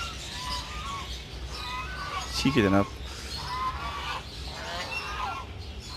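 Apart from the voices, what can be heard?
ducks and turkeys in a farm bird enclosure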